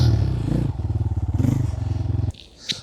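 An enduro motorcycle lifted over a log from a standstill, its engine revving in loud close pulses with clattering and scraping, then cutting off abruptly into quiet with a brief knock near the end.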